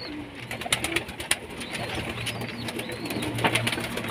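Pigeons in a loft in Saudi Arabia coo in steady, overlapping calls close by, with brief flutters of wings and a constant low murmur from the flock.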